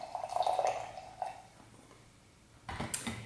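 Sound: pouring half cup of coffee

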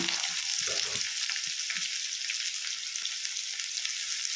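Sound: chopped onions frying in oil

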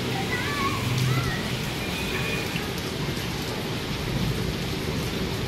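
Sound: light rain with a gentle breeze on a rooftop

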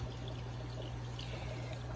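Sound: aquarium filter spray bar water trickling

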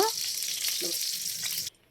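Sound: ghee sizzling in a pot

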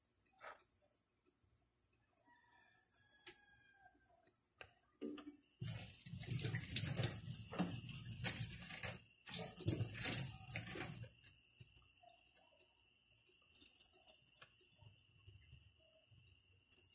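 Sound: water poured into pan for cooking fish

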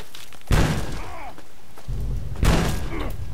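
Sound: explosion in the video game Fallout 3

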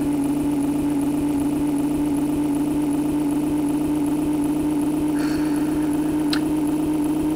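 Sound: truck engine in a video game

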